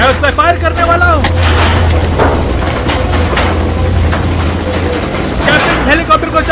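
Gunfire and heavy military action fill a Hindi-dubbed Hollywood action-horror film scene, with loud bursts and rumbling blasts mixed with a helicopter-like drone and raised voices over the top.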